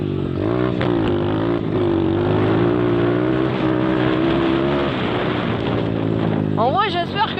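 A 2008 YCF R-Star 125cc dirt bike engine revs and pulls steadily, its droning pitch holding loud and close, climbing toward the end with wind noise throughout.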